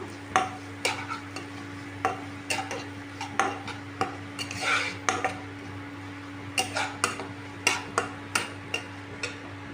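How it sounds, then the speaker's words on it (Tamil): A spoon stirs carrots and onions in a pan for masala macaroni. Repeated close clinks and scrapes against the metal come in irregular bursts over a faint background hum, with no voices. "இப்போ இதை ஆட் பண்ணிவிட்டு நம்ம நல்லா வந்து ஒரு வாட்டி கலந்து விட்டுக்கலாம்"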